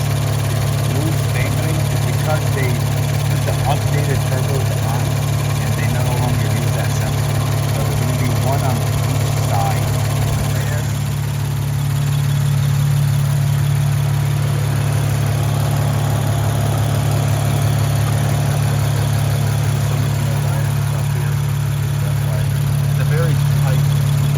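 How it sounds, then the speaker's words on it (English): An Infiniti Q50S 3.0t engine idles steadily with a low droning hum and a faint rattling texture from the wastegates throughout, while a voice talks over it. "I start up the car, if you hear some type of rattling, that is the wastegates"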